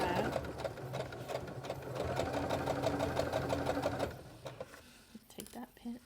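A sewing machine stitches across a fabric face mask in a fast, steady whir for about four seconds, then stops, followed by soft handling clicks and rustles. A voice talks faintly in the background.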